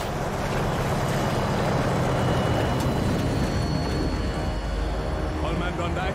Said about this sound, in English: Vehicle's approaching. Get down.